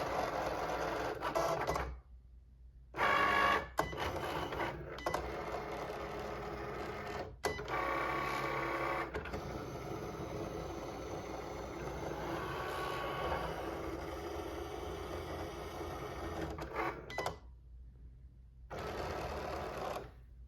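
A Cricut cutting machine draws a heart with a red pen and then cuts a paper tag, giving a close whirring carriage motor with rapid stepping buzzes, broken by short pauses of near silence as the head moves.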